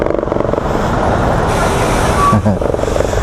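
Heavy road traffic in drizzly weather, trucks idling and rumbling close by with a loud diesel drone, a brief hiss and squeal near the end, and people talking over it.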